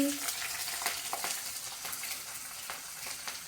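Chillies sizzle in a pan with crisp roasted peanuts for kanda poha, with quiet frying crackle and light spatula scrapes close by and no speech.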